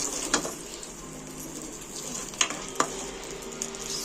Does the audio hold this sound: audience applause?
no